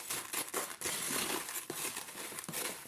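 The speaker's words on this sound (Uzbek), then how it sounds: "3 ta mineralni yaxshilab aralashtirib olamiz." Three mineral potting substrates mixed together by hand for repotting alocasia, a steady close gritty crunching and rustling of loose grains with no talk.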